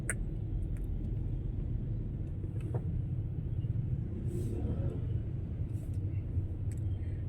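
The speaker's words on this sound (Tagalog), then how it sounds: "Ayan, grabe traffic." Heavy road traffic heard from inside a vehicle on a congested evening road: a constant low rumble of engines and passing cars, with faint distant horns and clatter, no talking.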